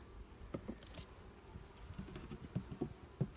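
A soft, continuous buzzing of many honey bees at a hive hums quietly, with faint scattered taps and rustles in the background.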